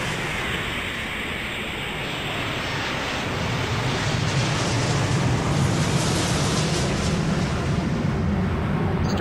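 Airplane taking off in the video game Airport Madness 4, a broad steady roar of jet noise that swells slightly and holds loud and constant, with no voices.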